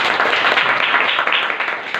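Students in a classroom applaud together, a dense, steady patter of many hands clapping close by for about two seconds, with no pauses.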